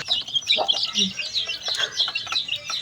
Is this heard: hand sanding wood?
no